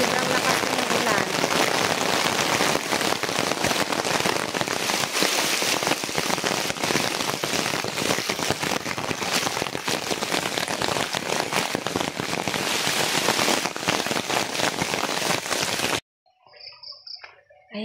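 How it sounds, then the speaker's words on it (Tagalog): Heavy rain pours in a dense, loud, unbroken hiss for about sixteen seconds, then cuts off to near silence with a faint voice. "Sobrang lakas ng ulan."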